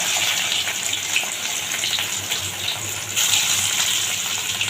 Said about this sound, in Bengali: তার সাদা তেলের মধ্যে এবার আমি এগুলো ডিপ ফ্রাই করে নেব